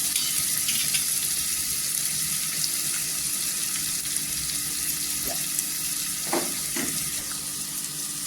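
A paste of green chili, coriander and garlic sizzles loudly in hot oil, a steady close hiss throughout with a few brief stirring scrapes near the end.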